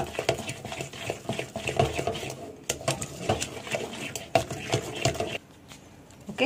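Boondi batter mixed with water and food color, a spoon or whisk stirring and tapping a bowl in a quick, busy rhythm, close, with brief pauses and a quieter ending.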